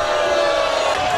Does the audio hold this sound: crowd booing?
yes